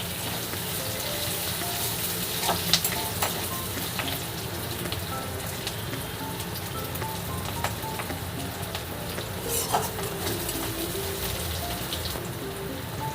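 Onions and green chillies fry in a pan for chilli chicken, giving a soft, continuous sizzle with a few brief clinks and scrapes, fairly quiet and heard alone.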